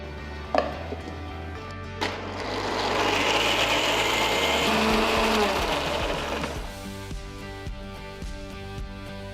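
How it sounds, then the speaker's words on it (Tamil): A kitchen mixer grinder jar blends peeled almonds with milk into a smooth paste, whirring loudly for about four seconds between a couple of clicks before winding down; no speech. "தோல் எடுத்த பாதாமை ஒரு மிக்சர் ஜாருக்கு மாற்றி கொஞ்சம் பால் ஊற்றி ஸ்மூத்தான பேஸ்ட்டாக அரைச்சி எடுத்துக்கலாம்"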